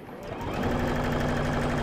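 A domestic sewing machine runs a short back stitch while sewing a fabric napkin holder, a steady close whirring hum that builds quickly and holds evenly throughout.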